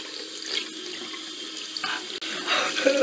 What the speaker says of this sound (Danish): det var så Joachim, der skulle børste tænder i stærk chilisauce